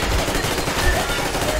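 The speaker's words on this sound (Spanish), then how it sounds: "¡Disparo!" Rapid bursts of gunfire in the video game Metro Exodus, loud and dense with overlapping shots in a fast rattling stream, filling the clip with no pause.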